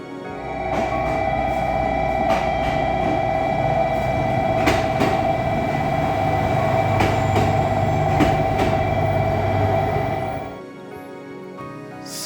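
A train rumbles past loudly in Kyushu, Japan, for about ten seconds with a steady tonal hum and rhythmic clacks, then fades out abruptly.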